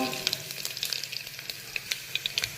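Curry leaves dropped into hot oil with garlic and cumin, frying for a dry fenugreek dish, give a steady close sizzle with scattered sharp crackles and pops throughout, no voices.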